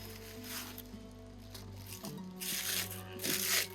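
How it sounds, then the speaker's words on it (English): Plastic bag packaging from a Canon RF 100-400mm F5.6-8 IS USM lens box crinkles and rustles close by in quiet, irregular bursts, growing louder toward the end. "Another plastic bag."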